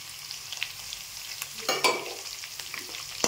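Carrots and beans frying in a pan for upma, a steady hiss of sizzling oil with a few stirring scrapes and clinks, one louder stir midway.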